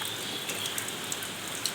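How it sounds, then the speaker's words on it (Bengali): Steady rain falling during a monsoon storm, a soft continuous hiss of drops on surfaces with a few scattered louder patters, no voices. "হয়তো ঝড়ে বৃষ্টি হচ্ছে।"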